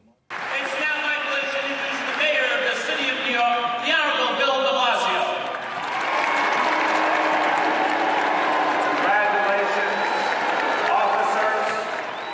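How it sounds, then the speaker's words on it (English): Police cadets at a graduation ceremony give a mixed reception of applause and some boos, a continuous loud crowd roar with clapping and voices, a talking voice prominent early before the crowd noise swells and holds. "Applause and some boos."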